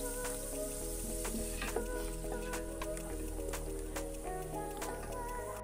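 Masala paste frying in oil for chicken dum biryani, a soft crackling sizzle with scattered pops and stirring clinks over a low steady hum, fairly quiet and without talk.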